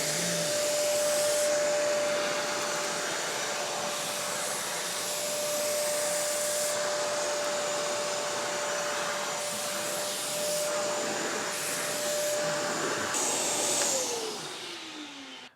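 Karcher WD3 wet and dry vacuum cleaning a low pile area rug with a pet hair attachment, a loud steady motor whine and suction roar that changes slightly as it moves, then winds down at the end.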